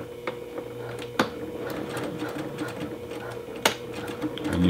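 A sewing machine stitches T-shirt fabric for a men's tee, a steady close mechanical whir with a few sharper clicks over about five seconds, running on its own without talk.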